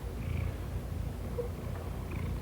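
A cat purrs close up, a steady low rumbling vibration with soft rhythmic pulses, continuous throughout and fairly quiet.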